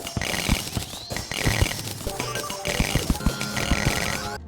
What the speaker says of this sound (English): it makes a very satisfying sound when you mine it